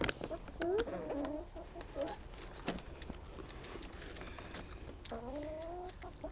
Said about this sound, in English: Want to say hi to the chickens?